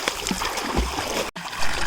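Water splashing and churning as people swim in the Karamana river, a continuous rough wash of splashes with a brief dip before it picks up again.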